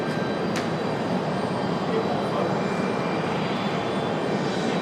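An airplane at Raleigh-Durham International Airport, heard from an observation deck as a continuous, fairly loud engine roar and rumble that holds steady throughout with no clear talk over it.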